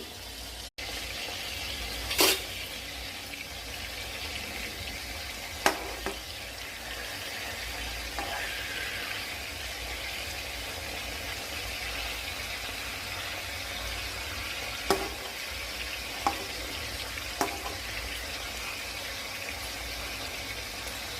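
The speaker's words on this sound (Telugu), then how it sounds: "స్టఫ్ చేసిన కాకరకాయలని ఈ విధంగా వేయించేసుకోవాలి" Stuffed bitter gourds, filled with salt, chili and jaggery, frying in a pan, giving a steady soft hiss with a few sharp pops and crackles scattered throughout, with no talking.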